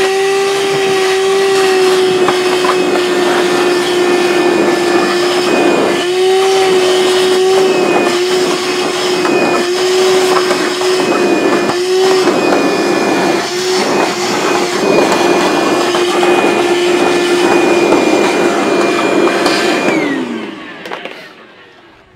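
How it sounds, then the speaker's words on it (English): A battery-powered wet/dry vacuum sucks fluid out of a fluidotherapy unit's chamber, giving a loud, steady whining motor drone with gurgling slurps for about twenty seconds before it cuts off and winds down. "There is nothing that cleans out these devices, fluidotherapy, whatever, faster than these battery powered wet dry vacs."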